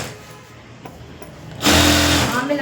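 A sewing machine stitches a blouse neck piece through lining fabric. A quiet stretch gives way to a loud, steady mechanical whirr of stitching near the end, with no talk.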